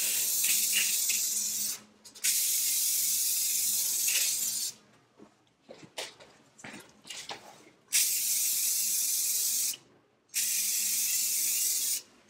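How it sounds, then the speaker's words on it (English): Bursts of spray hiss loudly in several long passes, each lasting a few seconds, separated by brief pauses filled with faint handling clatter, as a finishing spray coat is applied to plant decor. "we'll do the finishing spray on this"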